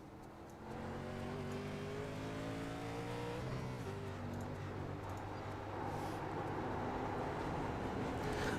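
A vintage race car runs at speed around Watkins Glen, its engine droning steadily and loudly from inside the car, with a downshift and shifting revs partway through against constant road and wind noise.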